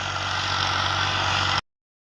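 A tractor engine idles at a village tractor fair, a steady loud rumble that holds evenly for about a second and a half and then cuts off abruptly, with no voices over it.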